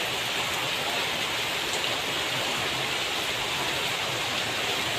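Torrential rain from Typhoon Goring falls in Mariveles, Bataan, a constant broadband roar of drops hitting surfaces that stays unbroken and uniform from start to finish.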